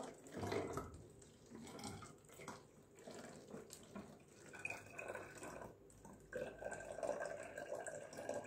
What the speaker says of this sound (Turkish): İçerisine suyumu da ekliyorum.